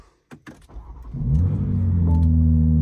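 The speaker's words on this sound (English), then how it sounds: "Let's go ahead and start it up." A BMW G87 M2 starts up: a few clicks and a short whirring crank, then the engine catches with a loud flare and settles into a steady, deep idle close by.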